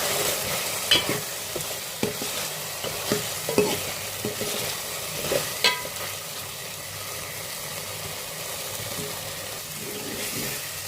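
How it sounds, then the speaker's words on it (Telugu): Chilli powder and coriander powder masala with garlic and coconut fry in oil for an aloo egg curry, a continuous sizzle broken by repeated sharp scrapes and knocks of a spoon stirring the pan. "ఈ కారము, ధనియాల పొడి కూడా ఆయిల్లో కొద్దిసేపు ఫ్రై అయింది"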